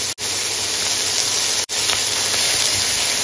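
Ginger-garlic paste sizzles in a hot pan with vegetables for a sweet corn chicken soup, a loud continuous hiss broken by two brief dropouts.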